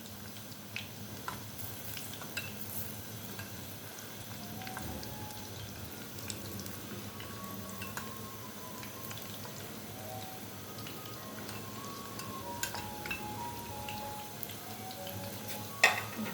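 Mixed vegetable pakoras fry in hot oil, giving a steady soft sizzle and bubbling with scattered small pops and drips throughout, no talking.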